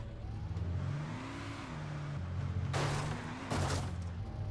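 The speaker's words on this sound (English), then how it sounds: "I'm gonna go driving now" A car engine in Alan Wake Remastered hums steadily as the vehicle pulls away and picks up speed. Two sudden bursts of harsh noise, like knocks or impacts, break through near the end.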